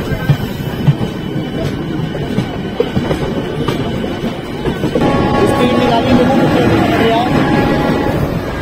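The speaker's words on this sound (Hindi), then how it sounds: "अब देखते हैं हमारी ट्रेन कितनी स्पीड में निकलती है" An RCF-built MEMU passenger train on the Moradabad to Ramnagar line rumbles along from inside the coach, with a dense, loud rattle of wheels and carriage that swells as the train picks up speed.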